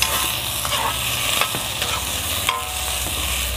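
Tomato goes into a pot of sautéing ginger and is stirred, producing a steady close sizzle with scattered scrapes and knocks of the spoon.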